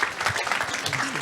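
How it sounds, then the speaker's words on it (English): A short burst of audience applause for speaker Sean at an energy innovation forum, moderate and steady, with some vocal sound beneath the clapping. "Let's give a round of applause for Sean."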